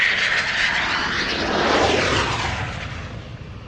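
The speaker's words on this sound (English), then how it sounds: "Same beautiful plane. Yes, the Italian Typhoon." Italian Air Force Eurofighter Typhoon jet at the Royal International Air Tattoo air show, a loud broad roar with a sweeping pitch as it passes, fading gradually toward the end.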